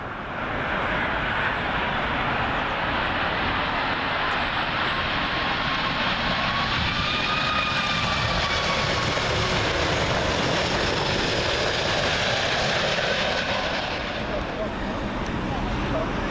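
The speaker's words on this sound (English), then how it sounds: "Up next, folks, American 777. This one from Miami." American Airlines Boeing 777 arriving at London Heathrow from Miami, a loud, continuous jet roar that swells and holds as the plane passes low overhead, then slowly fades.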